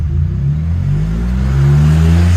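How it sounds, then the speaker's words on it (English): A 2021 Ford F-150 PowerBoost hybrid with a Black Widow exhaust revs in sport mode, a loud, close, deep engine note climbing steadily in pitch with no talk over it. "This is in sport mode. You can actually rev it up a little bit more. It's deep."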